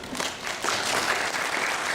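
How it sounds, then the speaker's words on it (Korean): Audience applause at a conference on public data use as the head of a Korean tourism startup is called up, a steady wash of many hands clapping at even loudness throughout. "레드테이블의 도혜영 대표님께 박수 부탁드리겠습니다"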